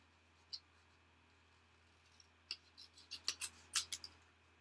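Scissors snipping around a paper card image, a quiet single snip early on followed by a quickening run of short crisp cuts, close and faint with no talking.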